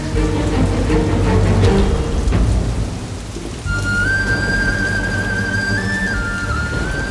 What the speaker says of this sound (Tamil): மழை வேற விடாம ஊத்துது.